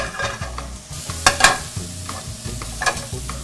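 Bacon and mushrooms searing in a hot pan, a close, steady sizzle broken by rustling stirs and a few sharp clatters of the pan being moved, no voices.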